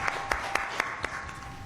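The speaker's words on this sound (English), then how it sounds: "with a round of applause" An audience at a land rights debate applauds, with dense steady clapping, a few sharper claps standing out, heard from within the room.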